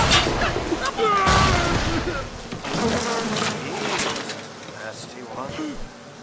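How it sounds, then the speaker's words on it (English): A swarm of bees unleashed in the video game BioShock Infinite, buzzing amid dense, loud game effects and other sounds throughout. "Have some bees, they'll make you feel better."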